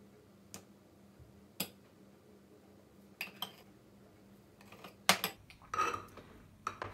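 A knife scrapes wet carrot particles off a lump of oil in a bowl, giving sparse, close ticking scrapes and light clinks spread irregularly, with a denser burst of scraping near the end.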